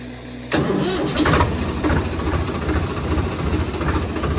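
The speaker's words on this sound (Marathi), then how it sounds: "आपण मारतो आता सेल मशीन ट्रॅक्टरला" A tractor engine cranks on its self-starter and catches after about half a second, then settles into a loud, steady mid-pitched running chug nearby.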